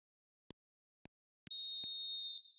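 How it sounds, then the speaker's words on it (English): A referee's half-time whistle in the eFootball 2026 video game sounds after three short taps. It comes as one bright, sustained blast, close and clear, that cuts off sharply after about a second. "And the half-time whistle goes"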